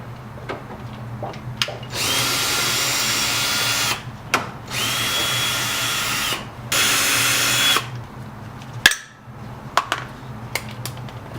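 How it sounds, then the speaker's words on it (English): A power drill whirs in three sustained bursts of about two seconds each, removing 5/16 hex nuts from a Mercedes C55 AMG, separated by short pauses and small clicks and clatters of metal parts. "that's just a series of 6 5/16 hex nuts that you can use your drill to take off"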